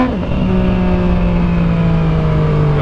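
A Yamaha MT-09 motorcycle engine revs loudly and steadily in first gear, close by, with a sustained raw roar and no talk over it.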